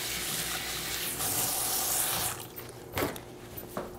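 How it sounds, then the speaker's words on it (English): Hands are washed under a running kitchen tap, a loud steady rush of water for about two seconds before it shuts off, followed by a few quieter splashes and drips. "give my hands a little wash here"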